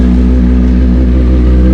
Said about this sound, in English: for some reason it's not working because as I start the bike up like normal